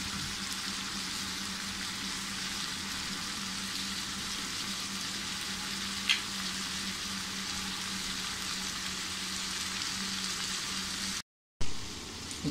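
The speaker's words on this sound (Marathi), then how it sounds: "छान असं आपण परतून घेऊया." Cauliflower and potato sauté steadily in hot oil for a Marathi-style mixed vegetable bhaji, giving a continuous, even sizzle close to the pan, with one brief tap midway and a short cut near the end.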